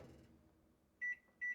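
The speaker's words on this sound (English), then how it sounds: "you're just gonna put it in the microwave" A microwave oven cooking cauliflower rice covered with a plate winds down with a faint hum, then gives two loud, clear beeps.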